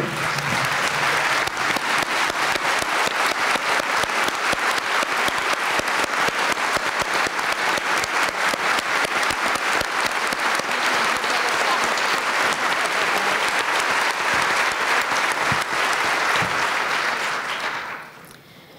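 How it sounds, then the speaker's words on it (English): A standing audience at a nurses' union conference applauds in sustained, loud, dense clapping that holds steady for nearly the whole stretch before fading out at the end. "I want to call upon everyone in this room to stand up and applaud our members in Limerick who did not say no"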